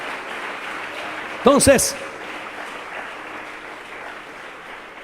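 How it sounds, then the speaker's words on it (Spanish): Church congregation applauding during a sermon, a steady wash of clapping throughout with a brief spoken word from the preacher breaking in near the start. "Dele un aplauso al Señor."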